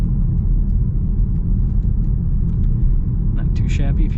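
2025 BMW X1 driving, with a continuous low road and engine rumble close in the cabin, steady and loud, and a voice speaking briefly near the end.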